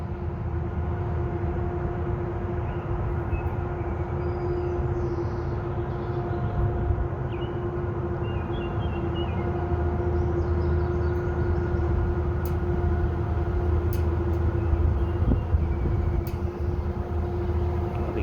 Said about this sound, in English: Quiet now so you can hear the chugging